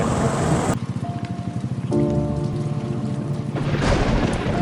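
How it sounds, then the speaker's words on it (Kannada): Steady rain falls on a surface with an even, fairly loud hiss throughout, while a low tonal hum and a burst of louder noise come and go briefly. "ಈ ಮಳೆ ಯಾವಾಗ ಬರುತ್ತೆ, ಹೇಗೆ ಬರುತ್ತೆ ಅನ್ನೋದು ನಮ್ಮ ಕೈನಲ್ಲಿಲ್ಲ."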